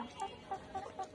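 Layer pullet chickens on a poultry farm give soft, repeated clucks, about four short calls in quick succession, faint and fairly close.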